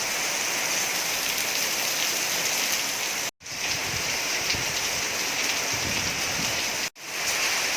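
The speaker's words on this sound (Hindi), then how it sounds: "तो देखा मुंबई में बारिश कितनी जोरदार होती है।" Steady, dense downpour of heavy monsoon rain in Mumbai drumming on surfaces, loud and continuous, with two brief dropouts.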